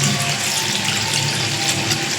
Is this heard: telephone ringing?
no